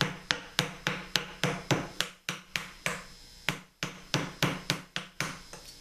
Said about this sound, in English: So now we sharpen the chisel and we start moving wood. Again, a wooden mallet.